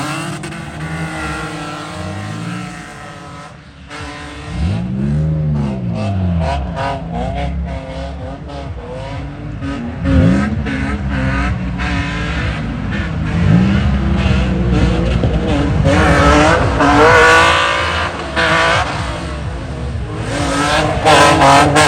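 A 2.0-litre BMW E46 with a broken muffler revs hard and raw while drifting, with repeated loud engine surges and pitch sweeps, tyres squealing and skidding, close and with no talking.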